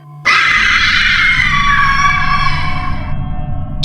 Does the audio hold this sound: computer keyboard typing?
no